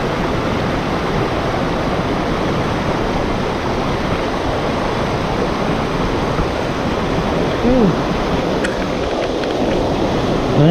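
The Sinapulan River flowing through mountain country in Columbio, Sultan Kudarat, a loud, steady rushing wash of water filling the whole stretch, with a brief faint voice-like sound near the end.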